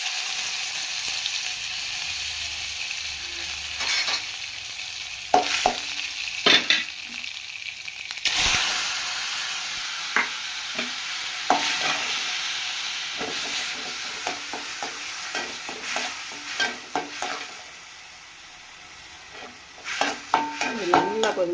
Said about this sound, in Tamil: இதில் கொஞ்சம் கடுகு போடுறேன் வாசத்துக்கு, சரியா.